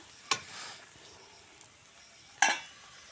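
Pangas fish fries in hot oil for a potato curry, with two sharp bursts of sizzling about two seconds apart and a quieter hiss between them.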